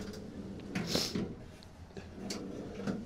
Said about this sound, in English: Metal drawers for it.